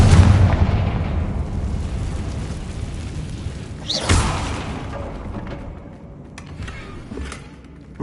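Confringo, an explosive fire spell in Hogwarts Legacy, erupts as a loud, rumbling blast, followed by a second sharp burst and a fading roar, with smaller crackling pops trailing off.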